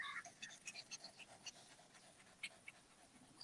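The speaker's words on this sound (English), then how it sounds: "my dog is here" A dog pants nearby in quick, rhythmic breaths, quiet and soft, with faint background hiss and no clear talking.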